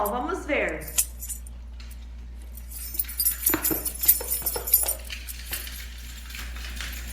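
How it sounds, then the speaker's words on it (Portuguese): A bunch of house keys jangles and clinks as it is shaken close by, in irregular bursts of metallic chinks over a few seconds, with a brief spoken line near the start. "Som de chaves, né? As chaves da casa ali balançando."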